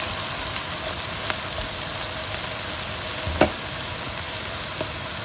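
Onions frying in a pan as they turn translucent, with steady close sizzling throughout, a few small pops and crackles breaking through, and no talk.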